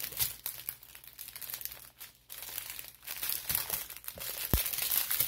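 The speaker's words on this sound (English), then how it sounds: "Crinkling." Packaging crinkles and rustles while a Woodland Church kit is unboxed, with soft, irregular crackles and a few sharper crunches running close and steady for several seconds.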